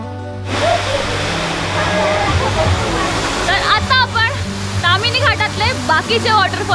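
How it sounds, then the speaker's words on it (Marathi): Shower waterfall at Tamhini Ghat pours in a steady, loud rushing wash throughout, with voices and chatter on top in the later part. "इथला शॉवर वॉटरफॉल आणि कम्प्लिटली जर तुम्ही पाहिलं तर हा शॉवर सारखा दिसतोय"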